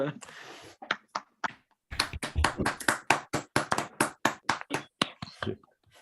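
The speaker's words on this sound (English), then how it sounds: "So maybe a first round of applause." Scattered applause follows a mathematics talk in an online probability seminar, a few people clapping separate, distinct claps in an irregular rhythm, close and moderately loud with gaps of silence.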